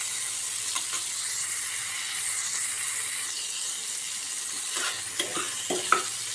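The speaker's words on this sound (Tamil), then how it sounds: "இந்த முள்ளங்கி நல்லா கலர் வந்து சேஞ்ச் ஆகிற வரைக்கும் நல்லா வந்து நம்ம வதக்கிக்கலாம்." Radish sautés in a pan for chutney, giving a soft, steady sizzle and hiss with occasional scraping stirs and light clicks near the end, close and fairly quiet, with no talk.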